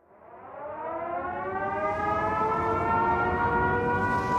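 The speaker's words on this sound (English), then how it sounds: "all of a sudden I heard the siren go off" A civil defense tornado siren in Joplin winds up and holds a loud, steady rising wail, close and continuous, with no voices.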